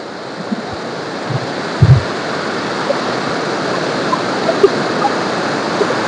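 A summer waterfall pours out a steady, broadband roar that fills the whole stretch, with a few soft low thumps breaking through the constant rush of water.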